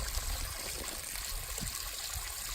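Water trickles and splashes as it rinses over and drains off freshly processed venison, a steady close-up running and dribbling sound with small gurgles.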